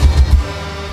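Low, pitched-down dog bark used as a music sample, heard as a few heavy thumping bursts in the first half-second over a sustained bass hum.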